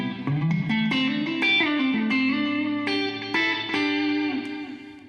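Electric guitar through a Mooer Black Truck pedal with delay and reverb on together, a few picked notes and chords ringing out with echoing repeats and a long washy tail, loud and close, no talking.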